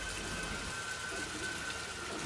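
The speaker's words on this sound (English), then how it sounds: "rain soon falls at the monastery" Rain falls at a monastery as a steady, soft hiss of drizzle with a faint constant tone running underneath and no one speaking.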